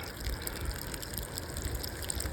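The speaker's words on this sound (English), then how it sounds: "I'm draining the rest of the water out." About five gallons of trapped water pours out of a fishing kayak at a house in a steady, close, hissing gush that carries on without a break.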